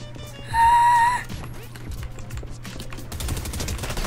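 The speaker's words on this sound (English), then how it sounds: "What are you shooting at?" Fortnite gunfire comes as a quick run of faint, rapid shots mixed with a constant game-ambience hum and a brief tonal beep near the start.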